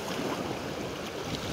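Large ocean waves wash against a rocky fishing spot, making a steady, loud roar of surf mixed with wind buffeting the microphone and no talk.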